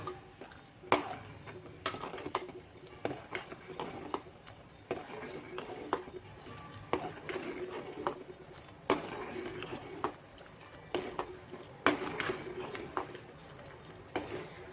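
A spoon stirs jaggery into a pot of payasam until it dissolves, with repeated light clinks and taps against the pot recurring steadily over a soft background, close and fairly quiet.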